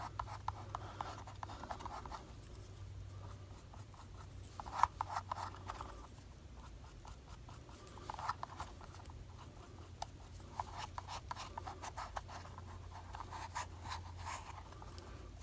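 Paint rubbed onto a plastic toy barrel to weather it, heard as soft, close, continuous scratchy rubbing strokes in uneven bursts over a low background hum, with no talking.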